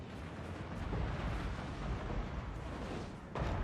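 A massive sustained explosive roar from a nuke in Total War: Warhammer 2, a dense rumbling blast that fills the whole moment with a fresh surge near the end.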